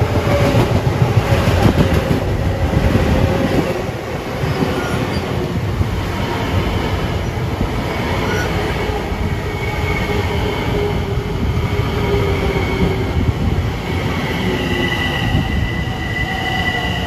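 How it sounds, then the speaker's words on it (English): LIRR commuter train 1608, Grand Central to Huntington, approaches Carle Place station with a loud, steady rumble of wheels on rail, metallic squeals and rhythmic clicking close by for the whole stretch. "Approaching at 6:32 is train 1608, Grand Central to Huntington."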